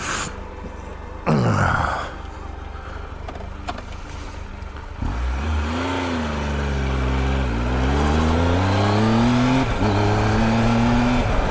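A Triumph Tiger 1200 motorcycle pulls away after a short scuffle, its engine note climbing and dipping through gear changes, then holding a loud, steady drone with wind rush as the bike rides on.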